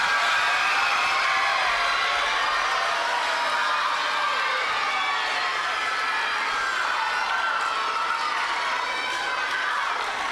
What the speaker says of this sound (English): round of applause for our fifth grade most improved